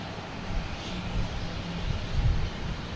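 A Porter airliner takes off from Boston Logan Airport, a fairly distant low engine roar that holds steady and swells slightly near the end, with no voices.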